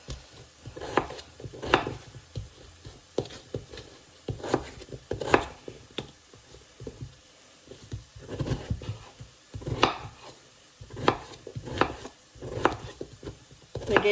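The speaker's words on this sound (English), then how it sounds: "I'm just going to chop these relatively small." A knife chops vegetables steadily on a cutting board, irregular close thuds repeating in quick clusters with short pauses, no voices.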